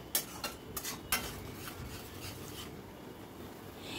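Spoon scraping and stirring ground spices, cumin powder and salt in a pan, a few sharp metallic clinks at the start followed by steady soft rubbing and scraping, close and fairly quiet.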